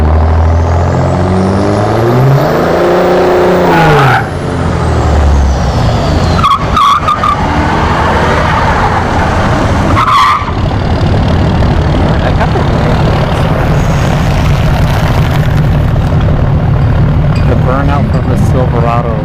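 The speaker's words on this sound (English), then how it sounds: "Burnout from the Silverado" A Chevrolet Silverado work truck does a burnout at a dragstrip during test-and-tune drag racing, its loud engine roaring and tires squealing close by over a steady crowd-and-track din, with voices talking underneath.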